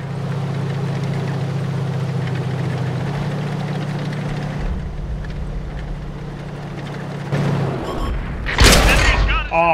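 A single heavy tank cannon blast in World of Tanks booms out near the end, loud and close, over a steady low engine idle drone that runs throughout.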